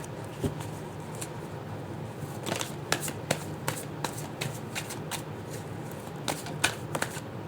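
Tarot cards being shuffled by hand at close range, a steady run of soft riffling flicks and taps over a quiet room hiss, with no talking.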